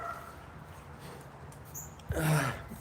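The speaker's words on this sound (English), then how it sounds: "Somebody's dog is upset over there." A dog some distance away gives a short burst of barking and whimpering near the end, over quiet room ambience.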